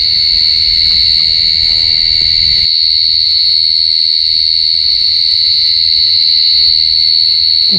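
A giant cricket calls loudly and nearby, a continuous piercing shrill buzz that holds steady without pause while low background rustling drops away.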